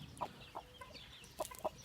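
An inexperienced Indian game rooster on a running setup gives several short, sharp clucks in irregular bursts, close and fairly quiet over a soft background.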